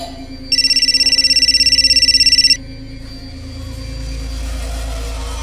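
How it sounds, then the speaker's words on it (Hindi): A mobile phone rings with a rapid, steady electronic trill lasting about two seconds, loud and close, over a constant low hum in a quiet room. "पापा आपका फोन बज रहा है।"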